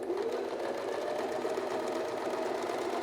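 Alfa Practik 9 sewing machine stitching a zigzag triple stitch, a steady close mechanical hum and rapid rattle running continuously without pause.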